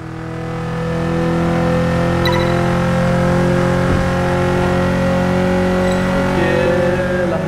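A Nissan car engine drones loudly and steadily in a driving video game, its pitch holding high in a sustained rev with no voices over it.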